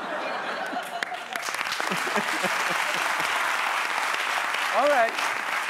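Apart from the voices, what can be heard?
studio audience applause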